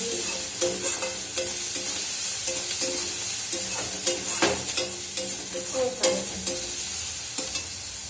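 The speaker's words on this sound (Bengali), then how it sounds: "আদা রসুনটা বেশ ভাজা ভাজা হয়ে গেছে, পেঁয়াজটাও ভাজা ভাজা হয়ে গেছে" Ginger, garlic and onion frying in a pan, a continuous close sizzle broken by repeated rhythmic scrapes and knocks of a spatula stirring.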